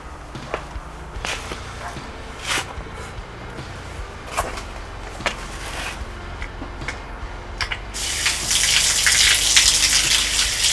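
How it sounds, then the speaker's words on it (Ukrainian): Water is poured to rinse the freshly concreted bottom of a sewer well, with scattered knocks and scrapes first, then a loud rushing gush of water filling the last few seconds. "зараз ще трошки змиємо водою"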